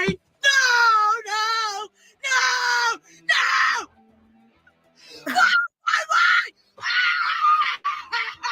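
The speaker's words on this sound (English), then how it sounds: "this woman took her meltdown to a whole new level, violently screaming in her car" A woman screams violently inside her car, with long, loud, strained wails and shrieks broken by short gaps and a few sobbing, moaning catches.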